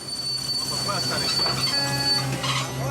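The Hirondelle passenger train on a Congolese railway line toward Ilebo brakes hard, its wheels giving a steady, loud metallic squeal over a continuous rolling rumble.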